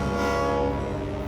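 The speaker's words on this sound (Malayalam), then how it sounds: "നോക്ക്, ട്രെയിൻ വരുന്നുണ്ട്" A cartoon train approaching sounds a loud, sustained horn blast that holds steady and fills the whole moment, with a rumbling undertone beneath it.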